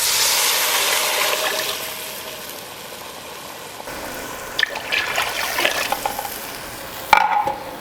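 Water pours into a pot of toasted rice kernels and gets stirred, a steady close sloshing and trickling that eases off midway, then brisk scraping stirs with a few sharp clinks near the end.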